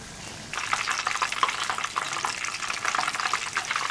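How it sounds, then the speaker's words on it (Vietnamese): Battered eggplant slices fry in a pan of hot oil, a bright crackling sizzle that bursts up after a quiet half second and keeps popping densely and evenly throughout. "Đợi cho dầu nóng thì mình nhúng cà tím vào hỗn hợp bột. Và cho ngay vào chảo dầu nóng."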